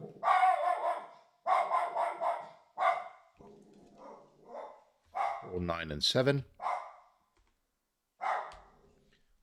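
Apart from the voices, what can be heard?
dog barking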